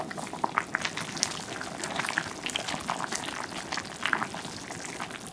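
Mugwort soup with minced garlic bubbles at a rolling boil in a pot while being stirred, a close, continuous burble of popping bubbles and liquid sloshing with no voices.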